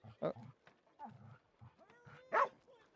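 A few soft dog barks from a video game come and go among low murmuring voices, faint and slightly distant.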